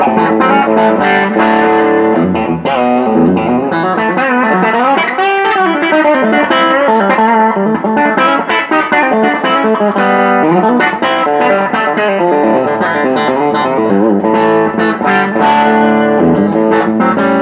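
A Nashville 2BM custom electric guitar on its bridge pickup, played through a Quilter amp, plays a loud, heavily distorted run of chords and notes that keeps going without pause.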